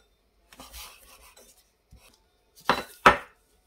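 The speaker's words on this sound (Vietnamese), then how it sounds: "Bây giờ mình sẽ cắt ra để mình xào nha các bạn." A knife slicing through a block of wheat gluten seitan on a board, a few soft scraping strokes followed by two sharp, close chopping knocks.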